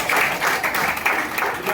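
An audience claps together at a BJP district-level Seva Pakhwada workshop held in the party office, a steady dense patter of many hands close by with no one talking over it.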